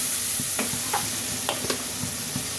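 Spices with salt fried and stirred in a pan for an egg curry with eggplant and tomato, a loud steady sizzle punctuated by several quick scraping strokes of a spoon, no talk.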